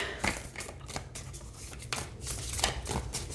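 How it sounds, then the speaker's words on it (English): A large Cosmic Dancer oracle card deck being shuffled by hand, giving quiet, repeated riffling and flicking bursts at close range with no voice over it. "And it shuffles fine just like this too."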